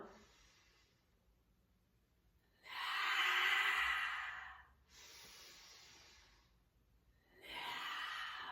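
Slow, deliberate breaths during a guided breathing exercise: a long airy inhale, then a steady exhale, followed by another breath, each a soft broadband rush of air, close and alone, with quiet pauses between.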